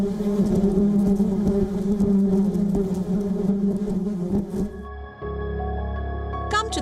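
Bees buzzing in a thick, steady drone with layered wing hum close by, the swarm sound cutting off about two-thirds through into a quieter tail with a few faint high chirps.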